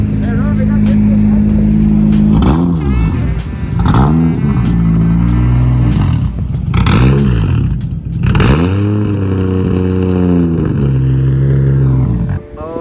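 An imported Japanese car's engine idles and revs after starting, close and loud, with repeated rising and falling revs over a steady low hum, while people talk over it.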